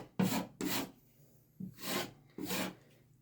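A putty knife scrapes excess filler off a patched wall hole in four short, close strokes separated by brief pauses, each a dry rasping rub.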